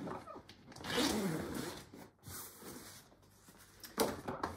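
A storm cover zipped off a Joolz stroller, a long rasping zipper pull near the mic followed by shorter tugs and fabric handling, with a final quick zip at the end.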